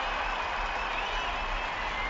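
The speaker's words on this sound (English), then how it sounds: "listen to the crowd now that know he's got the shot at goal" Football crowd at an Essendon v Fremantle AFL match roars in a steady, dense wash of noise as a player lines up a shot at goal, with scattered clapping and no break in the din.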